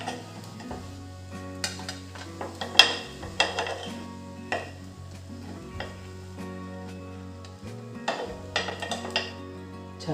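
A spatula scrapes and clinks against a hot pan while a cooked fasting pancake is lifted onto a plate, with a faint sizzle underneath and a low steady hum throughout.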